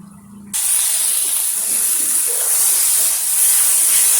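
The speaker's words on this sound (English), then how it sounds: "Add more ghee and keep stirring." Keseri sizzles in hot ghee while being stirred, a loud, steady frying hiss that begins abruptly and continues close up without a break.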